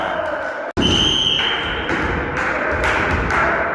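Volleyball served and struck during a local championship match in an indoor hall, one sharp loud thump standing out above crowd noise and people talking and calling out.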